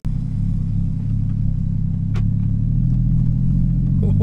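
A Porsche 981 Cayman S fitted with a Fabspeed race exhaust rolls along at low speed, giving off a steady, deep, loud exhaust rumble with no talk over it.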